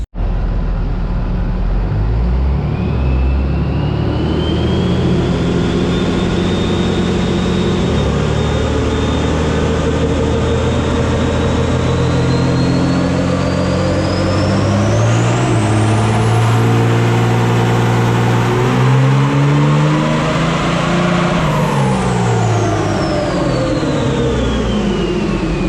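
A 2006 Cummins diesel pickup on a dyno, with a tuned engine on a T3 manifold, roars loudly and continuously through a full pull, pitch climbing steadily, then turbo whine rising and falling as the run winds down.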